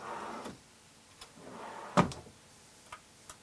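Latched drawers in a 2005 Fleetwood Bounder 37U motorhome are pulled open and pushed shut, giving a few soft, separate clunks and clicks, one sharper knock standing out, with quiet room tone between them and no talking.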